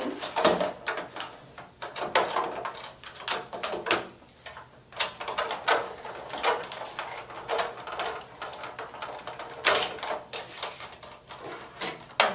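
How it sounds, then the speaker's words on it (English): A Sizzix Big Shot die-cutting machine is cranked by hand, pulling cardstock with dies between its rollers. It gives off a run of irregular close creaks, clunks and rolling rasps, with no voices. "I like to feed the tabs through first because it kind of pulls it through the machine"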